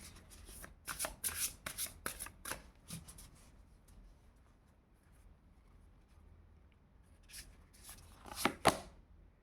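Tarot cards shuffled for a reading, in bursts of crisp riffling and flicking near the start and again toward the end, with a quieter stretch between.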